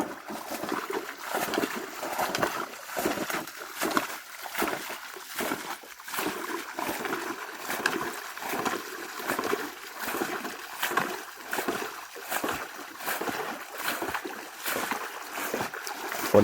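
A canoe glides as paddles dip and pull through water in a steady rhythm, each stroke bringing a soft splash and swirl, close and unhurried.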